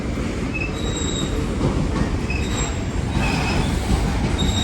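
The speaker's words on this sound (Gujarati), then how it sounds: "ઓહો 2 માલની ગાડી આવી મિત્રો." A loaded freight goods train rolls through an Indian railway station, its wheels squealing and rattling in a loud, steady roar with clickety-clack under it, close by and unbroken.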